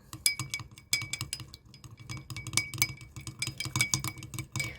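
A spoon clinks rapidly and steadily against a glass while stirring a honey salad dressing, bright chiming taps repeating close up throughout.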